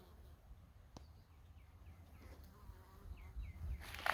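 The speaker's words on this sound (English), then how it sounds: "Meanwhile, the bees are going to town here, and then when they're done, they visit my veggies." Bees buzz faintly around flowering oregano in a July home garden, soft scattered drones over a quiet outdoor hush, with a few faint bird chirps and a closer rustle at the end.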